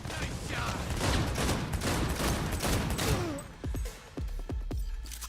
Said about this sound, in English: How many bullets can these guys take?